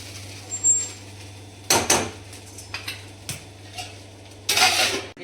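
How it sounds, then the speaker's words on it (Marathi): A metal lid is set onto a pot of stirred khichdi made as a fasting-day dish. Close, bright clanks and rattles sound, with a sharper knock near the middle and a longer ringing clatter at the end, against a low steady hum. "आता आपण यावर थोडे झाकण ठेवूया."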